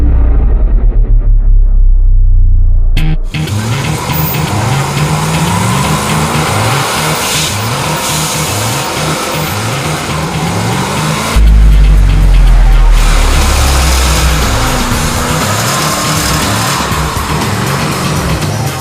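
A 1967 muscle truck with boost roars loudly and continuously, its engine revving hard, tires squealing, and a sharp pop and surge partway through the run.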